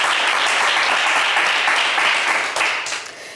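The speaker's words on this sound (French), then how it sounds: "Allez Moussa, on vous applaudit très très fort." Studio audience applauding loudly on a French television game show, a dense steady wash of clapping that holds for several seconds before beginning to thin and fade near the end.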